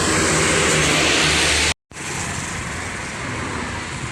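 Loud, close roar of the Epa Star Palembang–Bukit Tinggi intercity bus passing on a road, broadband engine and road noise filling the clip with a brief cut before continuing.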